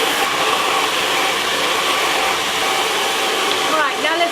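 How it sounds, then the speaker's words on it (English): Hair dryer blowing steadily on hair, a loud continuous close whoosh with little variation throughout. "I'll blow dry it in stages and then you'll see the difference."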